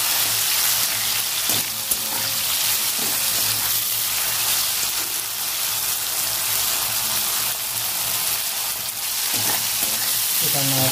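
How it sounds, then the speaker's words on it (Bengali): Okra coated in salt, turmeric and chili sizzling in hot oil in a Bengali kitchen, a dense, even crackling hiss that holds steady throughout, close and loud with no voices. "তেলটা গরম হয়ে গেছে, এর মধ্যে ঢেঁড়সগুলো যে নুন হলুদ লঙ্কা মাখিয়ে রেখেছিলাম সেগুলো দিয়ে দেবো।"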